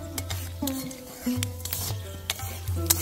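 Whole spices, cardamom, cloves and cinnamon, sizzle in hot oil in a pan while orange chutney is cooked. Close, quiet frying crackle runs under repeated metal stirring scrapes and clinks.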